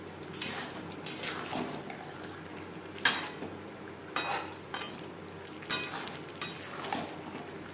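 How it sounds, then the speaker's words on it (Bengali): Chicken and fried potatoes are stirred in a pan over a high flame, with sharp scraping strokes recurring every second or so above a low background sizzle. "হাই ফ্লেমে আলুর সাথে চিকেন আরও 2-3 মিনিট নাড়াচাড়া করব"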